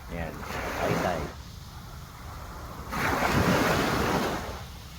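Sea waves at high tide wash in twice as loud, hissing surges with a quieter lull between them, over steady wind buffeting the microphone.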